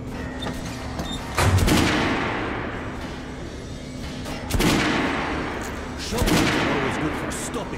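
Three heavy gunshots echo across a shooting range in Metro Last Light, each a loud sharp crack with a long decaying tail, spaced a few seconds apart over a low hum.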